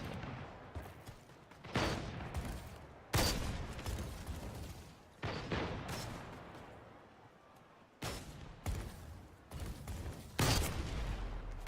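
Bursts of gunfire in the video game Splitgate 2 crack out in repeated sharp volleys separated by short pauses, firing near and loud with no talk over them.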